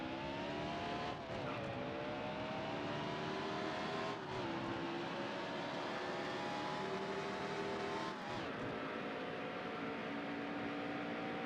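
A race truck's engine in a racing video game climbs steadily through the gears, its tone rising with each brief dip at the shifts. The whine is continuous and loud, with no voices.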